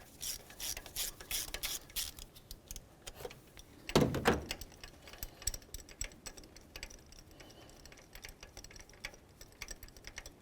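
A ratchet wrench with a 9/16 spark plug socket turns counterclockwise to loosen a spark plug on a 2007-12 Nissan Sentra. It makes quick runs of close, crisp clicking with a louder clunk partway through.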